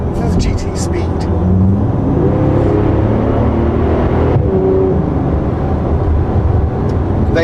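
Bentley Continental GT Supersports with an upgraded 6-litre W12 engine rated at 621 brake horsepower, driving with a steady, loud engine drone that runs throughout while a person talks over it.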